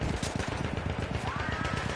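Rapid automatic gunfire rattles in a fast, even stream of shots from a shooter video game, loud and close, with a rising whine cutting in partway through.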